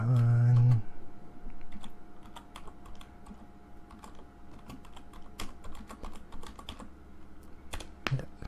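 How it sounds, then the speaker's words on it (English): Steady clatter of keys on a computer keyboard, uneven and hunt-and-peck in rhythm, close and moderately loud, following a brief tone at the start. "I type like a 6-year-old."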